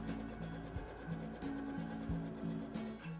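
An ELNA 560 sewing machine stitches a seam with a steady mechanical whirring hum, its needle pulsing rhythmically with brief stops and restarts, heard close up and alone.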